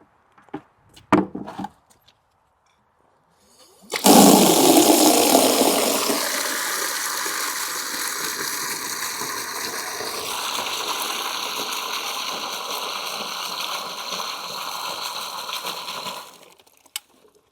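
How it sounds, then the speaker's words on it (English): Water runs steadily from a tap into a beautiful old outdoor sink at a pottery studio, where clay clothes are rinsed; the flow starts with a loud gush, then settles into a constant splashing rush for about twelve seconds before stopping. "The water source for the pottery is out here at this beautiful old sink."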